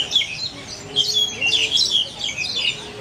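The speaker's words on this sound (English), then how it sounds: "And the birdies sound happy." Birds squawk and chirp in bursts over a steady outdoor hum in an aviary at Animal Kingdom, several calls overlapping at close range.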